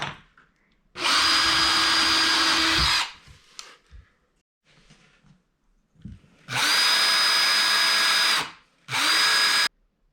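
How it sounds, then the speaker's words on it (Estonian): A power drill bores holes into wood while a skate ramp is being built, two loud sustained whirring runs of about two seconds each, then a shorter third burst, with quiet gaps of handling noise between them. "võtan need ajulised kruvid välja ja puurin need augud sisse"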